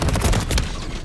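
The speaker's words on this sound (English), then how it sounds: "Oh, I see him, they're shooting me." Gunfire in the video game Warzone: a short, loud burst of rapid shots and booming impacts packed close together, heard alone without talk.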